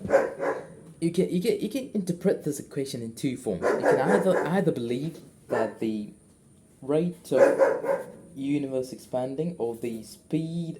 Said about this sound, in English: sorry for the dog barking again.